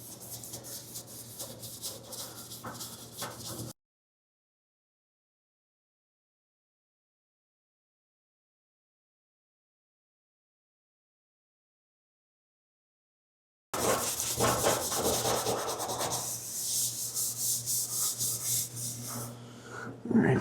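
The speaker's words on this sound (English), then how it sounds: "So it's the same thing as using like 320 grit sandpaper." A welded car body panel is hand sanded with 320 grit sandpaper in steady rasping back-and-forth strokes, close and fairly faint, broken by a long stretch of silence before the rubbing resumes.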